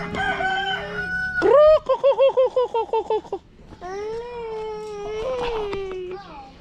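A rooster crows nearby, then a quick run of sharp clucks follows, and a second drawn-out crow comes after. No one speaks.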